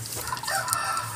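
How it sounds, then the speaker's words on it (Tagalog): Wild chickens clucking and crowing close by, a steady run of bird calls with no talking over it. "ito yung ating wild chicken"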